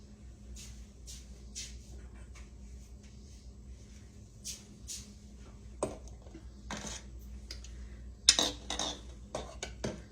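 Boiled eggs lifted out of a cooking pot and set into a small bowl, with a series of light clinks and taps of eggs and utensil against dishes, sharper knocks toward the end over a quiet kitchen background.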